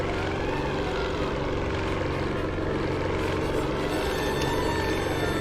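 Propeller-driven World War II German warplanes roar overhead in the video game Secret Weapons Over Normandy, a loud continuous engine drone that fills the whole stretch with no talk.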